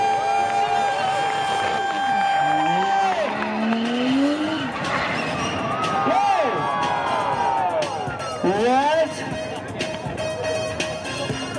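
A drift car doing a hard burnout at a drift event, its engine revving and wailing up and down over loud tire squeal and skidding, with an excited announcer talking over it and a crowd cheering.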